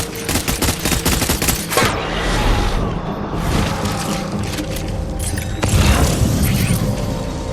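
Video game gunfire from Death Stranding rattles in rapid bursts, with dense automatic fire at the start, a sustained rumble of shots and booms through the middle, and another heavy burst near the end.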